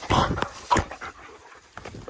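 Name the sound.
dogs playing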